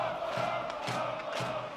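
Crowd of spectators at a bandy match between Hammarby and Bollnäs cheering and roaring in a steady wash, with a few louder swells.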